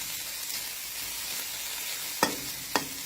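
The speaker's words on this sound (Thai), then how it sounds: "ทอดให้เขาสุกเลยคุณเพื่อนสุกนะคะทุกคน" Fish roe being fried in a pan over raised heat, Mekong river fish roe; steady broadband sizzle throughout, with two sharp utensil clacks near the end.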